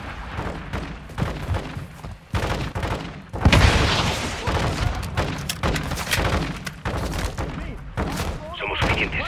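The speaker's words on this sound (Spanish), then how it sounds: "En lugar del impacto recibe disparos de RPG, primera planta." Dense Call of Duty: Modern Warfare 2 battle noise with rapid rifle gunfire and heavy booms from RPG hits, loud and continuous, with soldiers shouting over the combat.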